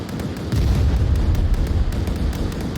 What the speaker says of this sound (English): Grenade comes out.